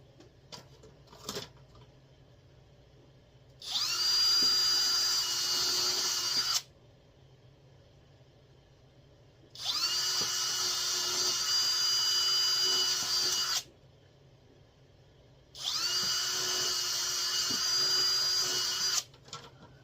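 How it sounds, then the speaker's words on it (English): A power drill drilling holes while assembling a fusebox and relay panel runs in three separate bursts of a few seconds each, a loud high whine with quiet pauses and small clicks between them. "Drill my holes."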